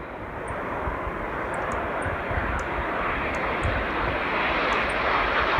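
A small propeller aircraft taking off, its steady engine drone holding loud and continuous throughout without any pause.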